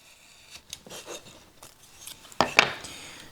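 Excess painter's tape being trimmed on a woodworking project: a few soft scraping rubs give way to two sharp cutting snips near the end, close and fairly quiet.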